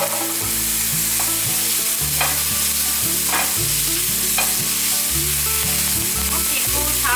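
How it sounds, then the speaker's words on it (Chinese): Ginger, celery and mushrooms stir-fried in a wok with a little oil, giving a steady loud sizzle broken by repeated scraping strokes of the spatula. No one speaks. "放入姜末和芹菜末炒香。 炒香后，放入红喜菇"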